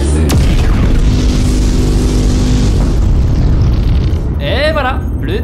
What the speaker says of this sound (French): Activation du canon anti-spam dans 3, 2, 1, mise à feu.